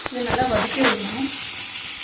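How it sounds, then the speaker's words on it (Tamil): Ingredients for potato kara kuzhambu sautéing in a hot oiled pan, a steady sizzle with scraping stirs of a spoon, close and continuous. "இதை நல்லா வதக்கி விடணும்."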